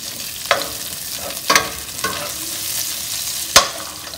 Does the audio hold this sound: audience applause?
no